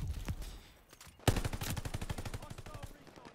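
A BAR rifle fires in a video game: a short burst near the start, then a sharp loud onset into a long, rapid run of evenly spaced shots that gradually softens.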